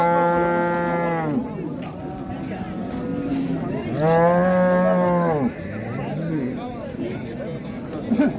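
Cows at a livestock bazaar in Karshi give two long, loud moos several seconds apart, close by, over steady crowd babble and talk.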